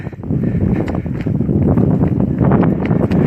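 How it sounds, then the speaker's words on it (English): Loud wind gusts pound the microphone in a continuous low rumble, with faint creaks and knocks beneath it. "Might be a little windy."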